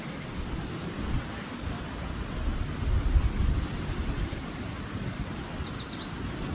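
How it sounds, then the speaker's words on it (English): Ocean waves wash steadily against the shore in a soft, continuous surge, with a few faint, quick high chirps from spring peeper frogs near the end. "Let's just listen to the waves and the peepers for a minute."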